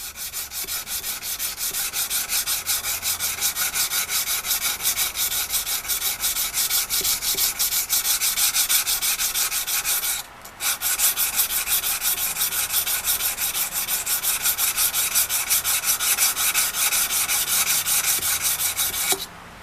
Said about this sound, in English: I'm going to need to take that out through hand sanding